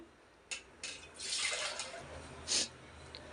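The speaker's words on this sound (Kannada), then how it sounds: "ಎಷ್ಟು ಬೇಕಾಗತ್ತೆ ಅಷ್ಟನ್ನು ನೀರು ಹಾಕೋಬೇಕು" Water is poured into ground sambar masala in a kitchen, arriving in short splashy bursts: a couple of quick spurts, a longer pour, then one more brief splash, all fairly soft and close.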